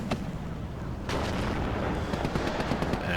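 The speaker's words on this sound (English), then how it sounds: "Artillery comes in." Incoming artillery fire from the WARNO strategy game: a sharp crack, then a burst of heavy booms and rapid impacts that rumble on, loud and dense throughout the short stretch.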